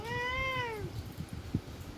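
A single clear, drawn-out cat meow close by, followed by faint soft thumps and rustling.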